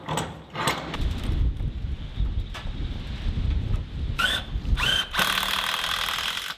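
A power drill drives fasteners through metal siding on a barn wall in short bursts, whirring up then stopping, over a continuous rumbling, windy background outdoors.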